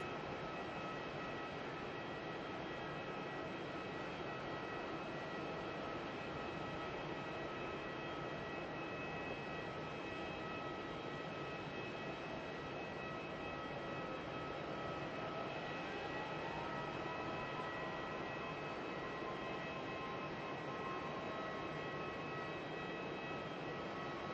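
A Qatar Airways airliner taxis and makes a big turn at Melbourne International Airport, giving off a steady, distant jet-engine roar and whine that holds evenly throughout.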